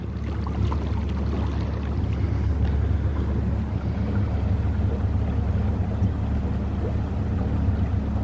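A small boat pushed by a Minn Kota Endura Max 55 electric trolling motor runs through choppy waves, giving a steady low rumble of water and wind buffeting the microphone throughout, with no talk.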